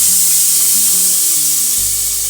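Garlic fries in hot pork fat with a loud, dense, continuous sizzle, close up and steady, with faint stirring beneath and no voices.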